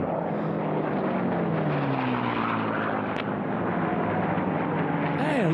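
An unlimited class racing airplane roars around the pylons with a steady, loud propeller-engine drone that shifts slightly in pitch as it passes, with faint announcer talk mixed in.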